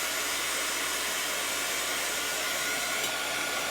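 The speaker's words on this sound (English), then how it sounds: "we're gonna give it a dry because it's still very wet" A hair dryer blows a steady, loud whooshing roar at close range over freshly inked face masks made with chalk couture inks, holding one unbroken tone for several seconds with no talking.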